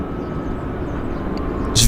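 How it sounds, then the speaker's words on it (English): A WestJet airliner rolls down the runway on its takeoff run at Vancouver International Airport, a steady broadband engine roar heard from a distance that swells slightly louder near the end. "And then we've got a WestJet on the roll there."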